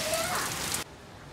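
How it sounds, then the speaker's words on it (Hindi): Steady, dense hiss of rain pouring down close by, cutting off abruptly after less than a second into a much quieter background. "बारिश आ गई भाई बारिश।"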